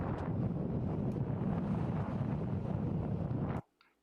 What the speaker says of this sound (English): You can hear that wind.